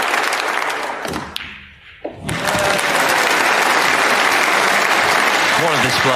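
A snooker crowd breaks into sustained, loud applause for a century break, briefly fading before surging back as a dense, even roar of clapping with a commentator talking over it.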